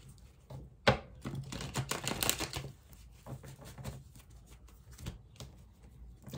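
A tarot deck being cut and shuffled by hand, with dense papery riffles and slaps that come in bursts, close and fairly loud, then fade to lighter card handling.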